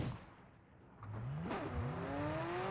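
A car driven in the shooter game PUBG on console, its engine revving and rising in pitch as it accelerates, loud and close, with a whooshing rush, no voices.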